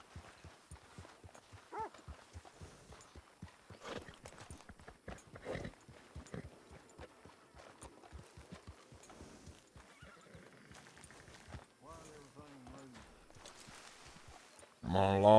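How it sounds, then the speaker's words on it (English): In the video game Red Dead Redemption, a horse walks with soft rhythmic clip-clop hoofbeats, then neighs twice. Voices talk on and off over it, and a louder noise comes in at the very end. "Let me pull my horse over here."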